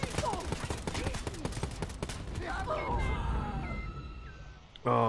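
Dense bursts of rapid gunfire and explosions from the online co-op shooter Wolfenstein Youngblood, loud and continuous for several seconds, then thinning into tonal game sounds and a sudden loud blast at the end.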